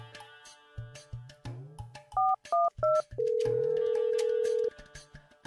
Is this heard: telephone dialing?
yes